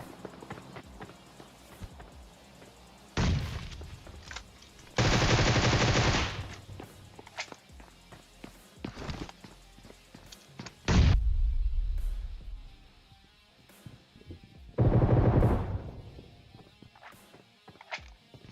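Bursts of game gunfire in PUBG Mobile, several sustained loud volleys and single shots spread over the stretch, with quieter footsteps and movement sounds in between.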